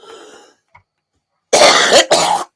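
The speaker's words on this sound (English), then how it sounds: "I've been trying to mute and cough while I was muting." One person coughs twice near the microphone, two loud, rough bursts close together. Faint talk comes before them.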